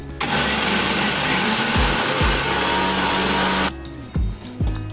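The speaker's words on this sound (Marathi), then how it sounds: "तर आपण हा पुरण मिक्सरला वाटून घ्यायचा आहे" A mixer grinder whirs loudly for several seconds grinding cooked lentil filling, then cuts off, followed by a couple of short bursts as the motor restarts and stops.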